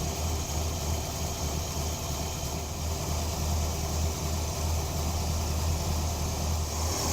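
A Chevrolet squarebody truck engine idles steadily as its choke opens, a constant close rumble with no breaks or talk.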